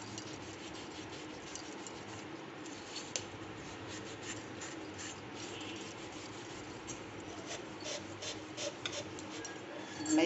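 Brass pooja vessel scrubbed with tamarind water and Sabena powder, giving a steady, close rasping scour that runs the whole stretch with small scratchy bursts and no talk.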